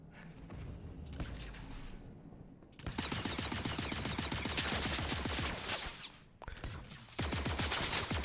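A video game shootout in Grim Hex, with rapid automatic gunfire in long sustained bursts broken by short pauses, loud and close, with lighter mechanical clatter between the volleys.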